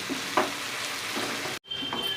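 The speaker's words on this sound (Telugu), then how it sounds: "ఈ పచ్చడి కాస్త వేగాలి." Green tamarind chutney sizzles steadily in hot tempering oil with curry leaves, a close, continuous frying hiss with a few stirring scrapes and a brief silent break near the end.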